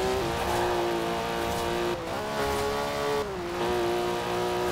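A car in Forza Horizon 4 driving at top speed of about 400 km/h, its engine a sustained high-pitched drone that holds steady with brief dips and shifts between gears.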